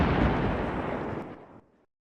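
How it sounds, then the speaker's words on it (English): Bomb detonation, a single deep, heavy blast that rumbles and decays over about a second and a half before cutting to silence. "the device detonated"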